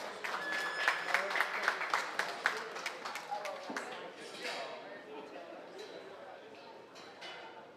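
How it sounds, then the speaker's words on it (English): Crowd at a county livestock show applauding young exhibitors, a burst of scattered clapping with a few sharp claps that gradually thins and fades, with some voices in the background. "Let's give those young people a nice round of applause."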